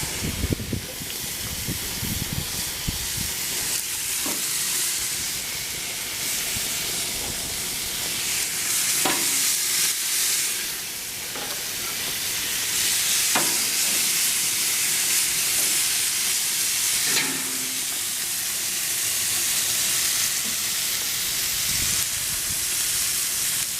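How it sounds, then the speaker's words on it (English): Italian pork chops sizzle steadily on an outdoor grill in cold weather, a loud continuous hiss and crackle with no talking over it. "And you're throwing pork chops on the grill."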